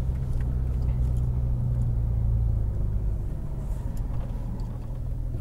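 A Porsche 911 GT3 accelerating on a coned driving course: a deep, steady engine rumble, close and continuous, with no voices.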